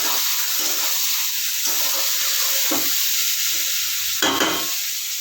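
Ash gourd frying in a pan with oil, giving a loud, continuous close sizzle broken by several spatula scrapes and stirring knocks, with no talking.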